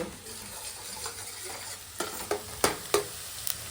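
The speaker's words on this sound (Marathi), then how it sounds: "कांदा भाजायला कांदा भाजला काय टोमॅटो टाकू" Onion frying in a pan crackles softly and continuously while a utensil stirs it, with several sharp scraping knocks against the pan in the second half; no one speaks.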